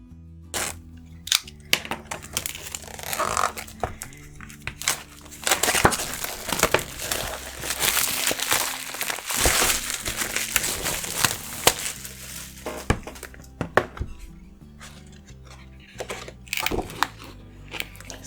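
Sheets of Stonehenge black watercolor paper, 140-pound cotton, are unwrapped from packaging with continuous crinkling and rustling, broken by sharp crackles and snaps for about eighteen seconds, with no talking.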